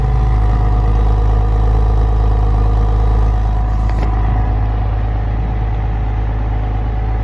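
A previously moldy Porsche Boxster that sat for four years idles steadily after a few light revs, with a loud, even low rumble running close and unbroken throughout.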